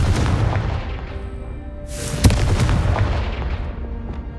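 Confringo fire spell in Hogwarts Legacy, a sudden bright burst of a blast cutting through a constant low rumbling game ambience, with the explosion's noise slowly fading away.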